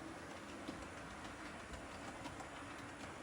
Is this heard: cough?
no